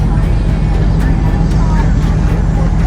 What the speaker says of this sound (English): the gentle whine of the 4xe Wrangler